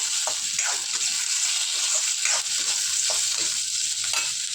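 Tomato frying with sautéed onions in a pan gives a loud, steady, bright sizzling hiss throughout, with faint scraping stir strokes beneath it.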